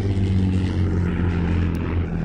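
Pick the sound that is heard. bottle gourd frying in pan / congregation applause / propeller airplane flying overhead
propeller airplane flying overhead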